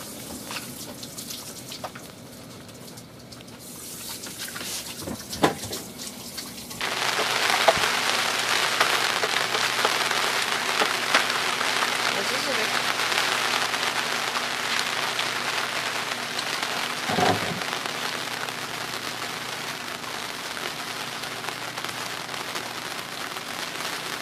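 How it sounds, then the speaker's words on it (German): Rain falls during an Atlantic crossing, starting quieter for several seconds and then settling into a dense, steady patter on surfaces, with a couple of brief knocks along the way. "Und es regnet mal wieder."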